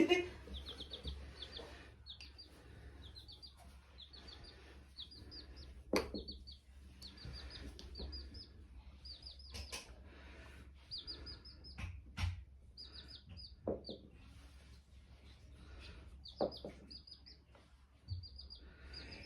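Baby chick chirping indoors in a play room where marbles are being rolled: steady bursts of high, rapid peeps recur across the whole stretch, with scattered knocks, clicks and faint voices underneath.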